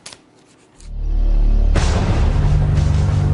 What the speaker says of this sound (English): And that's a gunshot.